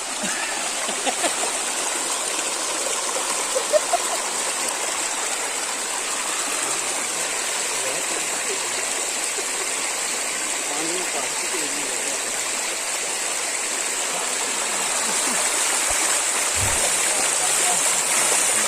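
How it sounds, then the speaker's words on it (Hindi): Water flowing at Tempra Dam in Jhelum, a constant broad rushing roar like a waterfall that stays loud and steady throughout, with faint talk barely audible beneath it. "अब आप पानी की आवाज़ सुने ज़रा।"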